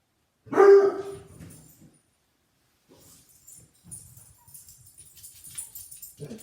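Two dogs bark, one sharp loud bark near the start followed by quieter scattered yips, whimpers and rustling, close by with no talking.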